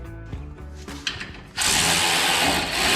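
A hand ratchet clicks in short bursts while wheel spacers are tightened on a Ford Mustang GT500, then a loud, broad rush of noise takes over for the rest of the clip.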